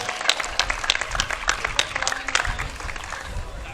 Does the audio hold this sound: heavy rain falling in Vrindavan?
no